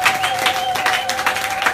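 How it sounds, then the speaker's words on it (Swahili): A church congregation gives a loud, dense round of clapping, many hands beating together in a fast, continuous burst close by. "Hebu tupigie Bwana makofi makubwa"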